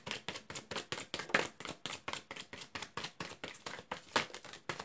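Tarot cards being shuffled by hand make a quiet, rapid, rhythmic run of soft taps and riffles that repeat evenly from start to finish.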